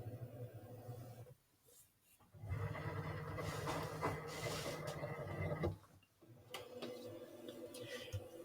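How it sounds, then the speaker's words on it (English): A cutting machine loads its mat and runs to measure the fitted material, giving a steady mechanical whirring and rubbing drone for several seconds, set between quieter pauses. "The machine will now measure the material length to make sure that you've got the right size material fitted."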